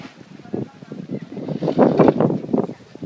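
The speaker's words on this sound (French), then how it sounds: "Tu vois, c'est le vent." Gusting wind during a thunderstorm at Deauville, France, buffeting the microphone in rough, surging bursts that swell and fade, loud and close.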